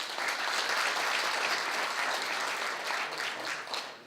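An audience at an inauguration ceremony and general assembly breaks into a big round of applause, dense and even for about four seconds, then fading slightly at the end, with no talk over it.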